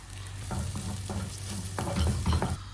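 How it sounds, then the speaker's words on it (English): An egg fries in a little oil in a pan with pepper, salt and chili added, giving a steady close sizzle broken by several stirring scrapes, with no talk. "Same pan, I'm going to add little oil. I'm going to add the egg, pepper, some salt, and some chili."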